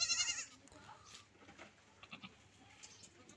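A young, active desi goat gives a loud, close bleat at the start, followed by fainter scattered bleats and rustling in a quiet farm setting.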